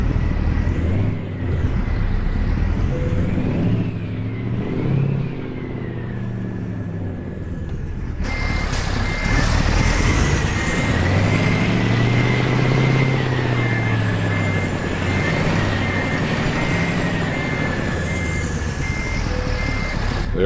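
A heavy truck in American Truck Simulator idles and rumbles steadily while maneuvering into a parking spot, with a repeating reversing beep sounding over the engine throughout.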